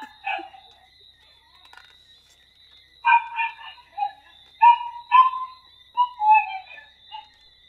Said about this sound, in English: while this dog continues to bark